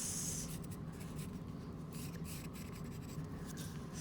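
Chalk tracing a pattern onto felt, a soft continuous scratchy rubbing with light strokes, faint and close under a steady background hum.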